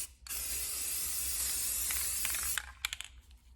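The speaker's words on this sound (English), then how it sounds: "So we're gonna spray paint this" Can of flat white spray paint releasing a steady, close hissing spray for about two seconds, then stopping, followed by a few short clicks and rattles.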